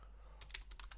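Quick keystrokes on a computer keyboard while entering a MySQL server command, a handful of sharp clicks in an uneven burst against a quiet background.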